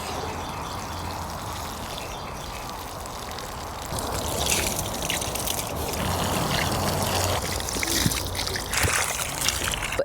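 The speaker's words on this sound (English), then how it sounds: "So I'm gonna water everything in." Potato grow bags watered in outdoors, a continuous hissing, trickling spray of water on soil that turns heavier and splashier partway through, with faint background rustle.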